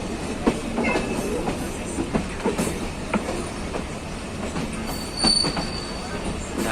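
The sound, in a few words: train at Dhaka railway station, Bangladesh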